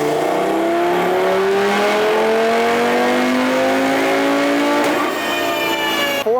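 A front-wheel-drive Audi 8Y RS3 on a dyno, running JB4 Map 1 tuning, revs hard in one long pull. The engine note climbs steadily and loudly, then cuts off sharply near the end, with no talk over it.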